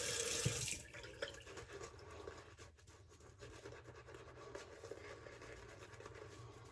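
A tap runs a little water for lathering a bar of Saponificio Varsino Dolomiti soap, starting with a brief louder splash and then a soft, steady trickle mixed with faint rubbing, with no voices.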